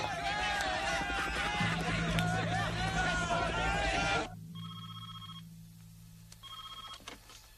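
A busy crowd murmurs loudly for several seconds, then drops away, leaving two electronic telephone rings, each a short warbling burst, with quiet room tone between.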